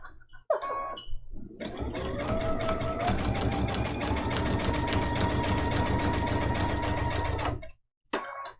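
Sewing machine stitching a quilted Christmas ornament trivet, beginner raw edge appliqué, runs in one steady, loud, continuous burst for several seconds, starting and stopping abruptly, with faint clicks before and after.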